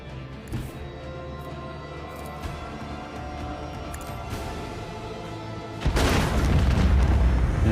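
Heavy booming blasts of a torpedo salvo in a real-time space strategy game, a continuous rumble building to a loud, sustained explosion near the end.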